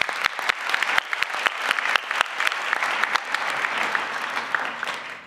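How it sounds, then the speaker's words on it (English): Sustained applause from a banquet audience honoring scholars at the 2020 Jackie Robinson Foundation awards dinner: dense, steady clapping with sharp individual claps popping through, close and full for the whole stretch. "We should give them a big round of applause."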